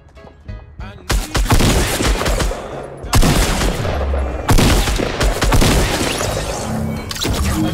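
Rapid automatic gunfire and bursts of shots from Fortnite, loud and dense, with sharp booms and crashing impacts continuing almost throughout after a brief quieter opening.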